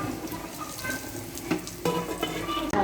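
Nigella seeds sizzle in hot oil with a soft crackling hiss, broken by a few short clatters and scrapes of a utensil in the pan close by.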